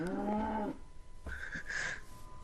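A cow moos in the Minecraft game on PS4, with one long, loud, wavering low call at the start and then brighter, shorter animal calls later in the clip.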